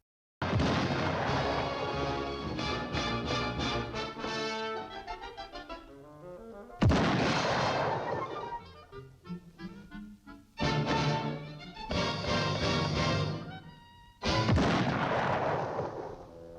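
Several heavy booming cartoon cannon blasts from a 1954 Looney Tunes short, each followed by a ringing, rumbling decay, spaced a few seconds apart and loud.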